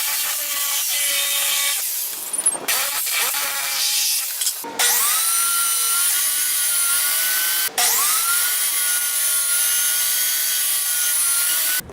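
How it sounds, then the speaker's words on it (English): A power saw cuts through scrap wood, first a jigsaw and then a table saw, in a steady high whine broken by a few short pauses and restarts, loud and close with no talking. "I'm going to cut out around this with my jigsaw and then I'll run it through the table saw"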